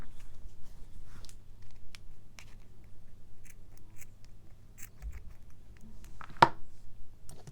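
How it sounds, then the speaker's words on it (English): Scissors snip through crochet yarn: a few soft close rustles and light scratchy handling, then one crisp cut near the end, quiet with no talking. "And then I'm going to cut my yarn"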